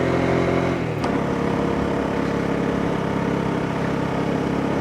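A Honda CB150X motorcycle engine labours steadily while climbing a steep hill road, a continuous mid-pitched drone that holds loud and close, with a brief sharp knock partway through.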